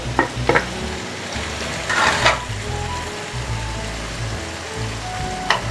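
Chopped garlic, ginger and green chillies go into hot oil with whole spices for a sweet yellow pumpkin dish, setting off a steady close sizzle with stirring scrapes and a few sharper spatters, with no talking.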